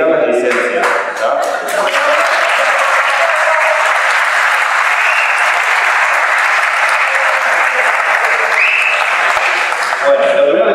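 Loud, sustained applause from a large audience at a Gamelab conference talk, steady and dense for the whole stretch, with faint voices mixed in.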